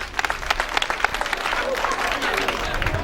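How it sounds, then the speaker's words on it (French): Members of a women's association at an official launch event in Cameroon applaud, brisk uneven hand clapping with crowd murmur and voices mixed in, moderately loud and short. "Les femmes de Boko peuvent vous applaudir."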